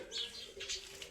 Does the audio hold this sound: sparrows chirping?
yes